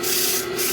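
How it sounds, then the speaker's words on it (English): Rough sandpaper rubbed over a wooden workpiece in a woodshop, a steady, close, loud scratching hiss that runs unbroken through the short moment with no voices. "I'm gonna put a little rough sandpaper on there just to clean up a hair."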